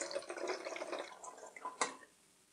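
Water poured into apple cider vinegar in a plastic spray bottle, a close, faint trickle and splash lasting about two seconds, ending with a short drip.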